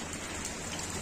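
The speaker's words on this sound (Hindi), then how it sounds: "ये नहा लेंगे अच्छे से, बरसात का पानी मिल रहा है ना बहुत ज्यादा जरूरी है" Steady rain falling outdoors during the rainy season, a dense, even hiss of drops close by with no pauses and no voices.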